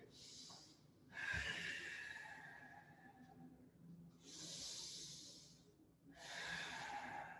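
Slow, deep breathing during a yoga hamstring stretch, with long airy breaths drawn in and let out in a steady rhythm, close and quiet.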